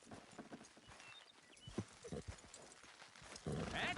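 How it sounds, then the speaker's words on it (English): Horses' hooves clip-clop at a trot in the Red Dead Redemption 2 video game, a quiet rhythmic patter of hoofbeats under faint background sound, rising to a louder rush at the end. "Good horses."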